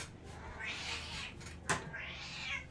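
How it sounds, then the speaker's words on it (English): A pet cat meows twice indoors, drawn-out rising and falling cries, fairly close over faint room noise during a live online math class, with no talk. "you can hear my cat."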